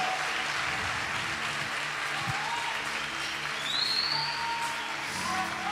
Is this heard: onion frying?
no